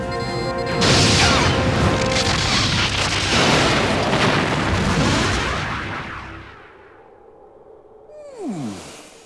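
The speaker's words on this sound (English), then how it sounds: "Shields are dropping. The Borg cube is firing." A Borg cube firing on a ship in a Star Trek video game: heavy rumbling blasts and booming impacts with a sci-fi roar, fading out to a descending whine at the end.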